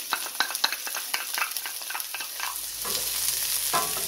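Onion, scallion and thyme sautéing in a pan, with a string of sharp scraping stirs over a soft sizzle at first, then a fuller, steadier hiss in the second half; no voices.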